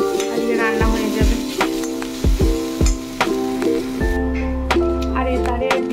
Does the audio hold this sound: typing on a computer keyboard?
no